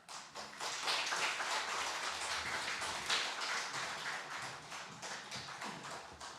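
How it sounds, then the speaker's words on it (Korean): A church congregation at a Sunday worship service claps steadily to welcome the pastor to the pulpit, a full, sustained round of applause heard quietly from a distance. "박수로 환영하겠습니다"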